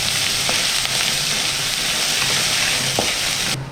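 Cinnamon, cloves and ginger garlic paste frying in hot oil, making a loud, steady sizzle with a few scraping stirs, close up and without speech.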